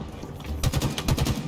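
Gunfire in the Halo video game, a rapid burst of automatic shots at a steady rhythm after a short lull, moderately loud.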